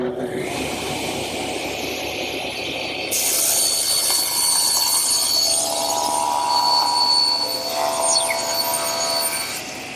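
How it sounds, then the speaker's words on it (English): Table saw fitted with a hardwood plywood panel cutter riding in the miter slot, cross-cutting wood: a steady motor whine joined midway by a louder, brighter cutting roar, close and continuous, with no talk. "it just makes cross-cutting pieces like this much easier"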